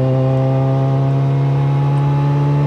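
A Campagna T-Rex three-wheeler with a Kawasaki ZX14R engine hums steadily while driving, a loud, close, even engine tone holding one pitch without speech.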